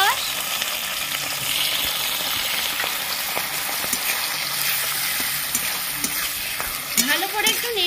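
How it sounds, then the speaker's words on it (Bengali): Chilli paneer is stir-fried with tomato sauce and soy sauce, a loud continuous sizzle filling the pan while a spatula scrapes and turns the pieces close by, with no speech. "ভালো করে একটু নেড়ে নেব।"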